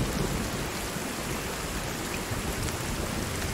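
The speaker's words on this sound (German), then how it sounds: "Krasses Unwetter." Heavy storm rain pours down steadily in the survival game Sons of the Forest, a dense, even hiss with faint low rumbling beneath and no voices.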